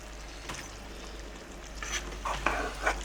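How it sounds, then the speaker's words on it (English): Spinach and potato cooking in a pan are stirred over a low steady sizzle, with a few scraping strokes of the utensil close by. "Just gonna continue stirring."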